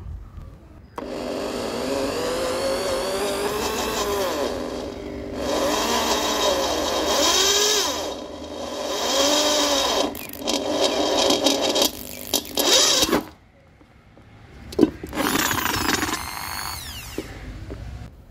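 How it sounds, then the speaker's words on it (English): A power drill bores through thick metal at low RPM, a loud, steady whining motor with a grinding bite that surges and wavers, then cuts off, followed by a brief clunk and a short final burst. "You can see how easily it drilled with low RPM."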